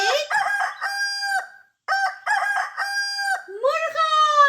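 A singing voice imitates a rooster crowing in a children's farm-animal song, with loud, close, repeated drawn-out crowing phrases broken by a short pause.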